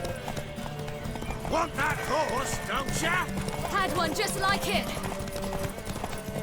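Galloping horse hooves in The Witcher 3 video game during a horse race, a steady clip-clop rhythm running under game music and talking voices throughout, with a brief whinny.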